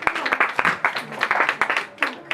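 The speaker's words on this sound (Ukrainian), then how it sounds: "Ваші оплески." Audience applause at a live Ukrainian music performance, a steady run of many hands clapping with sharp irregular peaks, fairly close and filling the whole stretch.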